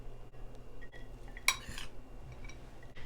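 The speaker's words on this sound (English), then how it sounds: "put a nice generous amount of the cilantro lime rice in each bowl" Cilantro lime rice being spooned into bowls: quiet scrapes and soft taps of a spoon against dishware, with one sharper clink, faint and close in a quiet kitchen.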